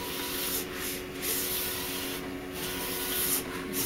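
HP DesignJet 500ps large-format printer laying down ink, a continuous soft hiss with a faint whine, broken by a few brief swishing passes of the print carriage, quiet and without talk.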